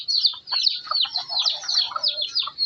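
Hungry backyard chickens cluck and chirp busily at close range in a continuous overlapping chatter of short calls.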